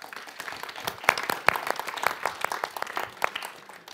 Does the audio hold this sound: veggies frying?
no